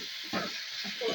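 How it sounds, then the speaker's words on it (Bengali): Chopped tomato with salt sizzles steadily in a hot pan of banana-flower curry, a continuous close hiss broken by a few soft, low stirring scrapes. "দিয়ে এবারে কষিয়ে নেব। টমেটো কুচি"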